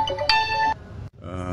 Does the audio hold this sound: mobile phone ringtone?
yes